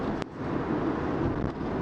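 Steady broadband rushing of wind noise inside a moving Kia ST1 electric car, constant and moderate, with a brief click near the start.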